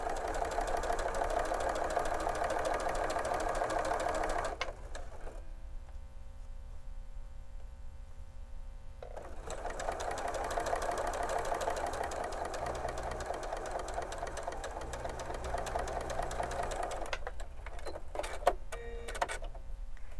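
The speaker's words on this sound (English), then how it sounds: "and keep sewing." A sewing machine stitches rows of quilt blocks together in steady mechanical runs, pausing briefly and then starting again. The stitching stays close and even throughout.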